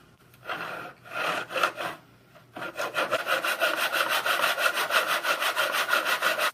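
Wood pieces for a picture frame are hand-sawn at a 45-degree angle, with a few short strokes, a pause, then a fast, steady run of rhythmic rasping strokes close by.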